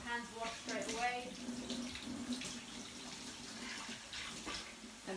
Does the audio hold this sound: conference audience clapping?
no